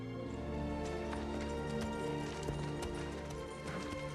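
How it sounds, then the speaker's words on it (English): A horse walks along, its hooves clip-clopping in a steady rhythm against a sustained musical score in a fantasy drama scene. "Guide my horse."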